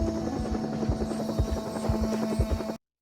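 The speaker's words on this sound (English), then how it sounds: "his mind is suddenly thrust into panic as the distant sounds of a helicopter beat through the sky" A helicopter drones continuously with a steady, rhythmic rotor thump and a sustained engine hum. It stays fairly loud throughout, then cuts off abruptly into silence near the end.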